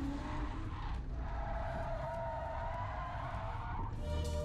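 A drift car with stock steering angle, its entry into a turn overcooked, skids through the corner with a sustained, loud tire squeal over a steady engine roar.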